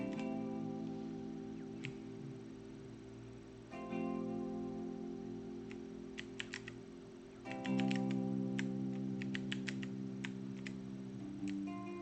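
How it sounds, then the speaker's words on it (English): Mechanical keyboard keys clicked in scattered, irregular taps and short bursts, crisp and close, over a steady low hum with no talking. "you can hear me clicking the button because I've got a mechanical keyboard"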